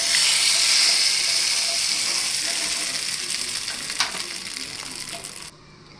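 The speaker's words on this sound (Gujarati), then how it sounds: "રાઈ ફૂટે એટલે આપણે મરચાં એડ કરી દઈશું અને ત્યાર પછી લીમડો નાખી દઈશું અને વઘારને આપણે આપણી ચટણીમાં એડ કરી દઈશું." Mustard seeds, green chillies and curry leaves sizzle loudly in hot oil for a peanut chutney tempering, a steady bright crackle with one sharp pop near the end before it drops away quieter.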